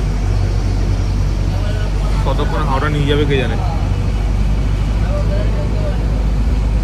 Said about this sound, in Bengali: শিয়ালদা থেকে একটা বাস ধরে নিয়েছি হাওড়া যাওয়ার।